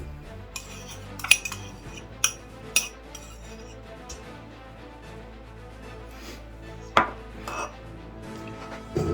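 Cream cheese being spooned into a bowl in a kitchen, with sharp metal spoon clinks and taps against the dish at irregular intervals, several distinct knocks standing out over a quiet background.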